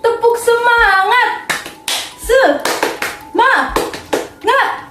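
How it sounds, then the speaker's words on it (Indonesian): A sociology class does the rhythmic 'tepuk semangat' cheer, sharp patterned hand claps close by alternating with loud chanting voices in a lively call-and-response beat. "gimana kalau kita tepuk semangat sosiologi dulu yuk? Tepuk semangat!"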